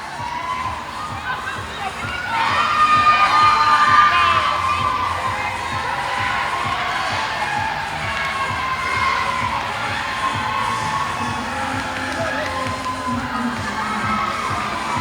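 A roller derby crowd cheers and shouts for a victory lap, a loud sustained roar with high children's voices swelling early and staying strong throughout.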